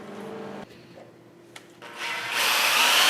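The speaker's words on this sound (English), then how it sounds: "Drilling the holes" A power drill bores holes through welded steel brackets for a Super 7 Locost kit car build, starting quietly then rising into a louder, sustained whine of cutting.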